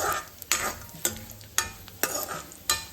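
Raisins and almonds fry in hot ghee for carrot halwa, a soft steady sizzle broken by about six sharp clinks of a spoon stirring against the pan at even intervals.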